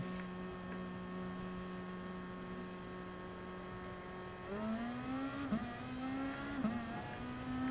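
Car engines rev loudly in the Gran Turismo Sport racing game, a steady engine drone that climbs into rising, wavering revs with shifts partway through.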